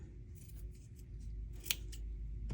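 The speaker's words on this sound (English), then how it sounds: "I'm going to trim." Scissors trim material for a handmade perfume bottle craft, a few quiet snipping cuts with one sharper snip near the end, close and alone.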